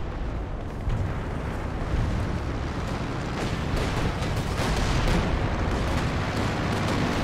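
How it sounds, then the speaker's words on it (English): Zeroing artillery howitzer barrage in the wartime strategy game Company of Heroes 2, set in a winter battle: a loud, continuous roar of overlapping blasts and booms that rumbles densely and without pause throughout. "is that zeroing artillery? Yes. Zeroing artillery."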